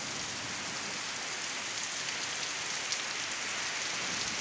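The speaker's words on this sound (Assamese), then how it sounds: "বৰষুণ জাক আহিছে" Steady rain shower falling in an even, continuous hiss of drops for the whole stretch, close and moderately loud, with no voices or other sounds.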